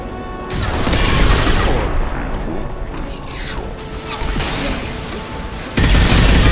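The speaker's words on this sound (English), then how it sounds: "Significant explosion." Heavy explosion from the video game Mass Effect 2, a loud sustained blast with rumbling crash and mechanical clatter, with a second burst near the end.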